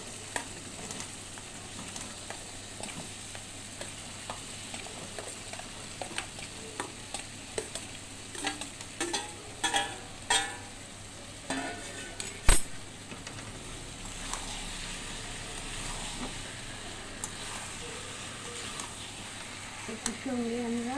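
Taro pieces dropped into a pan of spice paste being fried: soft sizzling and stirring scrapes with occasional clatter and one sharp knock, fairly quiet and steady under faint background talk.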